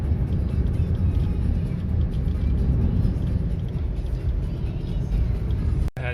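Steady low engine and road rumble from inside a car travelling on a road trip, a constant close drone with no clear talk.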